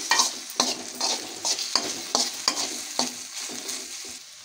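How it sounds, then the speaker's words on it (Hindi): Finely chopped green chillies fry on low flame for dal makhani, a gentle sizzle broken by regular scraping stirs of a spoon against the pan, close and rhythmic, with no speech. "लो फ्लेम में अच्छे से भूजिए इसे चलाते हुए"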